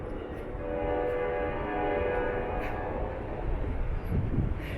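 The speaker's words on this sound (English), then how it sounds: "Oh, hey, there goes Amtrak." An Amtrak passenger train rolls by at a track near a street, a steady rumble carrying a sustained multi-tone horn blast that swells and holds for several seconds at moderate distance.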